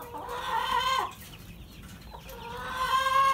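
Young chickens clucking in a farmyard, two drawn-out nasal calls near and clear, separated by a quieter gap with faint background noise.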